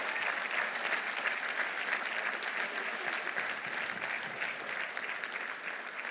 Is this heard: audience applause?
yes